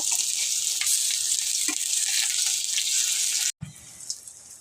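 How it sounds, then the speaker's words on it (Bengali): Fritters of ash gourd leaves and fermented dried fish sizzle steadily in hot oil in a pan, with a brief silent break near the end before the frying hiss resumes. "বড়াগুলো খুব সুন্দর লাল করে ভেজে নিয়েছি"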